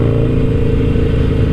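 A Harley-Davidson Roadster 1200 with a full Vance and Hines exhaust idles and rumbles loudly and steadily up close, its low-compression engine giving a lumpy, thumping pulse.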